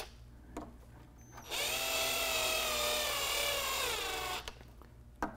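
A power drill driving screws to fasten a DIY gun magnet mount, a sustained whirring run of about three seconds that winds down, with light handling clicks before and after.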